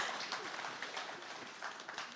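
An audience at an autism services conference claps, a soft, diffuse patter of many hands at moderate distance, continuous and fairly even over a couple of seconds.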